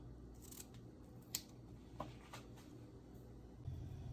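Ground seasoning is cut up on a home kitchen board for teriyaki salmon, giving a few sparse, faint snipping or chopping clicks over quiet room noise.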